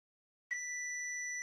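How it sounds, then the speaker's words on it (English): A cheap voltage detection pen sounds its alarm: after a short silence, a single steady high-pitched electronic tone starts abruptly and holds without a break, clear and close. "one of these inexpensive voltage detection pens. They'll light up and sound an alarm if there's any power present."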